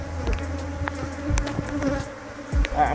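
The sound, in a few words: honey bees buzzing at an opened hive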